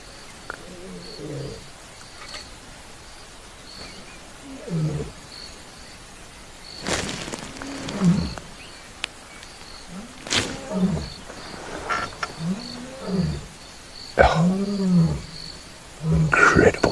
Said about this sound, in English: Now our boy's roaring.